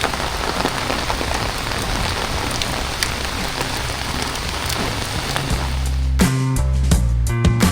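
Heavy rain pours steadily and loudly in Marikina–Pasig, a dense hiss of drops striking surfaces, with a deeper rumble and some clattering rising in the last couple of seconds.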